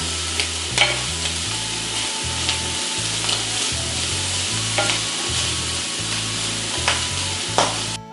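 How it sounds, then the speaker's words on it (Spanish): Bacon sautéing in a pan, a bright crackling sizzle with intermittent stirring clicks and pops, near and moderately loud, under a low rhythmic background tone and without talking. "un poquito de bacon salteado"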